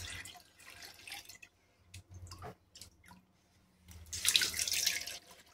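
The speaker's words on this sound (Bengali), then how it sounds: "জলটাকে কিন্তু পরিবর্তন করছি।" Water runs and splashes from a tap while being changed over bloodworms in a container, starting faintly, pausing, then surging into a louder, steady gush near the end.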